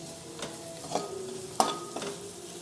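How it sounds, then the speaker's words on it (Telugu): Ginger garlic paste stirred into browned fried onions for paneer pulao, a low steady sizzle punctuated by a few distinct spoon-on-pan scrapes and taps, close and unhurried, no talking. "కొంచెం అల్లం వెల్లుల్లి పేస్ట్ ఒకసారి మళ్ళీ మిక్స్ చేసుకుందాం."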